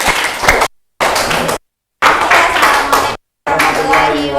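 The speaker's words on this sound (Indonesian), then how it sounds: "berikan aplaus untuk kelompoknya Angel" Classroom of students clapping for a student group, brisk bursts of applause broken by abrupt silent gaps, loud and close.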